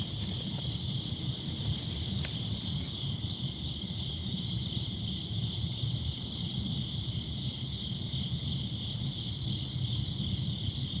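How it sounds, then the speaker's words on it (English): Crickets chirp in a constant, dense, high-pitched trill at night in a city backyard, with a low background rumble underneath and no voices. "it's hard to believe with all the crickets and noise around me"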